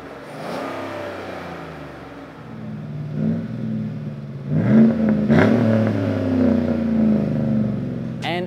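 A tuned 5.3 liter Chevrolet Silverado fitted with a Carbon Competitor Series catback exhaust, 3-inch 304 stainless tubing, revs up close by, its deep engine note swelling and falling in a few throttle blips without any talking.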